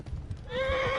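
Hoofbeats clip-clop for a moment before a horse in Kingdom Come: Deliverance lets out a long, clear neigh, near and steady, with no talking.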